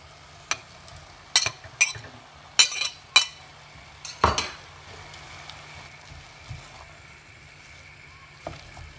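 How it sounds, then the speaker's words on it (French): Minced fat is stirred in a pan, with a series of sharp utensil scrapes and knocks against the metal over a faint, low sizzle, the clatter coming in clusters and then thinning out. "Là, on va ajouter la graisse que j'ai émincée aussi."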